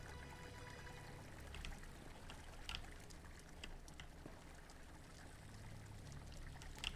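A fountain in an Elder Scrolls Online player house, with quiet continuous trickling and pouring water and small splashes dotted through it, soft and steady with nobody talking.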